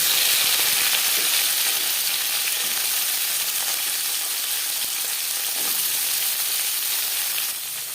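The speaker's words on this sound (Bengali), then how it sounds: "রিফাইন্ড অয়েল গরম করে নিয়েছি সবার প্রথমে উচ্ছে ভেজে নেব" Bitter gourd frying in hot refined oil, a loud, steady sizzle and crackle that fills the whole stretch alone, easing slightly near the end.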